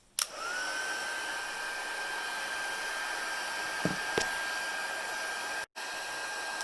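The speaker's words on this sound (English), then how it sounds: "the heat tool." An embossing heat tool switches on and blows hot air in a loud, steady whirring rush with a constant high whine, close by, running for several seconds with a brief dropout near the end and no speech.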